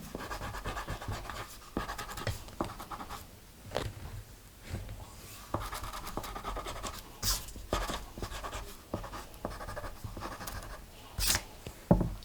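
Charcoal pencil dragged across paper in a realistic apple drawing, a steady close scratchy rasp of circular shading strokes with short pauses and lighter passes, no voices.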